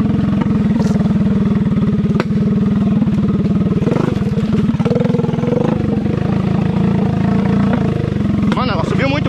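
A Mini Max motorcycle engine labors up a wet, muddy trail in rainy conditions, a loud steady droning chug held close throughout with slight surges, while someone talks over it.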